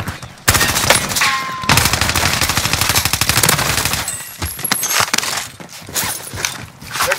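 Rapid automatic gunfire in a Resurgence video game match, dense close bursts of machine-gun fire with scattered single shots and impacts, loud and nearly continuous, easing into sparser shots toward the end.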